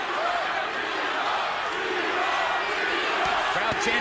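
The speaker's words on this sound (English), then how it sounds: "Crowd chanting, "Be Hop."" Boxing arena crowd chanting "Be Hop" for Bernard Hopkins during his fight with Sergey Kovalev, a dense, steady roar of many voices filling the whole space, with a few sharper shouts rising near the end.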